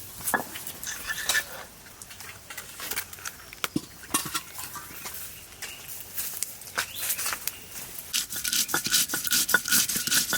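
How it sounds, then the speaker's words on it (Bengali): Mustard seeds and green chillies being ground into a paste by hand, an irregular run of close scraping, rubbing and clinking strokes that grows busier toward the end, with no talk. "আমি তাদের সর্ষে আর কাঁচা লঙ্কাটা সুন্দর করে বেটে নিচ্ছি"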